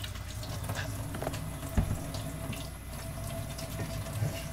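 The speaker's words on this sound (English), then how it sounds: "He's washing his hands." Hands are washed under a running kitchen tap, a steady close stream of water with splashing and rubbing, nobody speaking.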